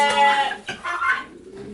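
Backyard chickens fed apples on a cold winter day give a few close clucking calls, a short rising bawk and a softer follow-up, loud and alone.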